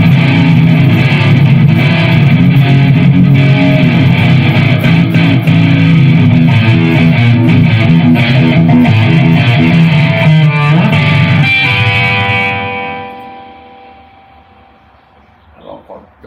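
Heavy electric guitar tone from a Neural DSP Godzilla amp plugin, loud continuous distorted chords and riffing that fade out into a ringing decay during the last few seconds.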